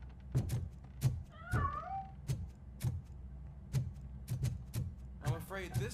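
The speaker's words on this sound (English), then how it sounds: "I'm afraid this time it's a one-way street, Mr. Cat." A cat in the video game RoboCop Rogue City meows twice, high and wavering, amid repeated dull footstep-like thuds. A voice talks over part of it.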